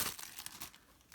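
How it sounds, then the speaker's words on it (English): Packaging being opened from a parcel of happy mail, brief close crinkling and crumpling of wrapping with a slight tearing edge, faint and quick. "Sorry, I am rustling."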